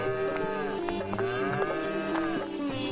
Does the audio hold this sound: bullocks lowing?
yes